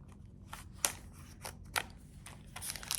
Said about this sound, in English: Cut that plastic off.